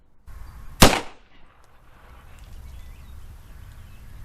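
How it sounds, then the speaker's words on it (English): A single loud, close 9mm pistol shot firing 124 grain Speer Gold Dot ammunition across a chronograph, a sharp crack followed by a brief decay and low background hum. "Let's put 5 rounds downrange across the chronograph"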